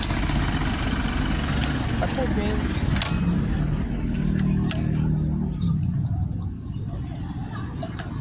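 A truck rolls past on a street, its engine rumbling steadily and fairly close, rising and then easing off while a person cycles; a voice talks over the passing traffic.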